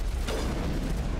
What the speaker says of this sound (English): That's not a sniper, that's a rocket launcher, dude.